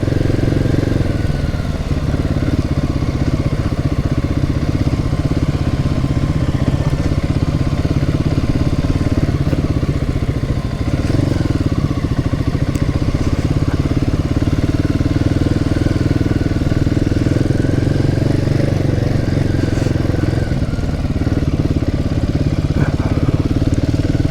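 A motorcycle with ABS and traction control rides across grass, its mid-pitched engine droning steadily and loudly up close for the whole stretch with faint clatter, no talk over it.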